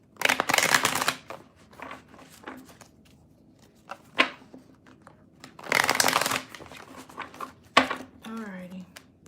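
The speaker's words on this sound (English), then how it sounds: "let me shuffle some cards" Tarot cards being shuffled in two brisk riffling bursts, with softer handling taps in between and a short voice near the end.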